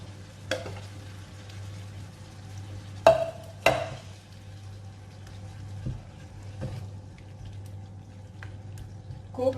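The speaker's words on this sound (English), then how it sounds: "Now I'm going to add our sauce. I just lowered the heat so it won't get burned" Shrimp tagliatelle sauce simmering in a pan over lowered heat, a soft steady sizzle and bubbling with a low hum beneath, broken by a few sharp clinks of a utensil stirring against the pan.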